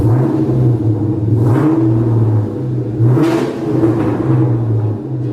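An upgraded 1996 Ford Mustang Cobra V8, engine exposed through the hood, revs loudly and close by, with two rising throttle blips over a steady rumbling idle.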